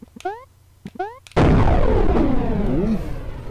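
A single loud, sudden explosion from the video game Voxatron bursts in and trails off into a long rumbling roar, preceded by a few short game sound effects.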